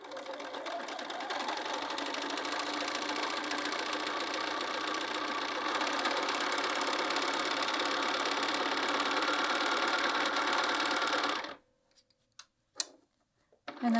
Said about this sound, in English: And then just sewing straight across.